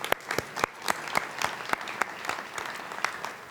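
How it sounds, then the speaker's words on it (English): Applause from guests at a university president's farewell reception, a smattering of distinct hand claps from a modest crowd, spread unevenly across the moment. "yes, we could applaud."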